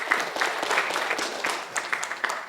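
An audience at a tech talk on CoreOS bursts into a short, dense patter of applause that continues steadily throughout at moderate loudness, with some faint murmuring mixed in.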